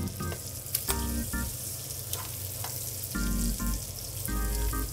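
Stuffed pork chops frying in hot oil, a constant sizzling hiss with occasional pops and clinks, under intermittent background music-like tones.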